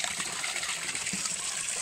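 A small stream flows beside a mountain footpath, a steady close rushing and gurgling of water that runs evenly throughout with no voices.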